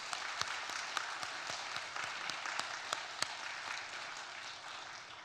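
Church congregation applauding new members at a Sunday worship service, an even wash of clapping heard from some distance, fairly faint, with a few sharper claps poking through.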